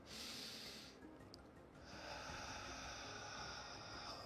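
A long, soft breath is drawn in through the nose, steady and airy, followed by a brief pause and then more slow, hissing airflow.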